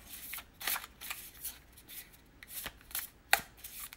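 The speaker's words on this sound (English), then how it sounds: "These cards are really wanting to be shuffled today." Cartomancy cards being shuffled by hand, a run of crisp riffling bursts and soft slaps at an uneven pace, close and fairly quiet, with one sharp snap near the end and no talking.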